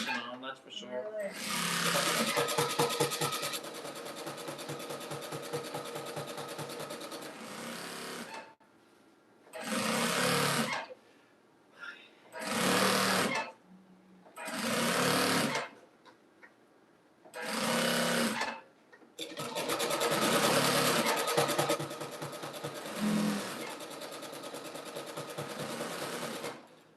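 A sewing machine stitches a jelly roll rug in several bursts: one long run, then short starts and stops, then another long stretch, loud and close, with brief talk in the gaps.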